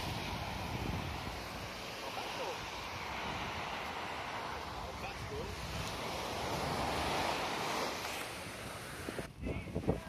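Surf washes in steadily at Mococa beach on the São Paulo north coast as a faint, continuous roar mixed with wind buffeting the microphone, with a brief knock near the end.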